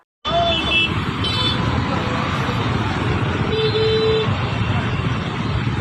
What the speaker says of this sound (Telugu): వాళ్ళ బండి హారను వాళ్ళ చెవుల్లో వలిగేటట్టు వినిపించిండ్రు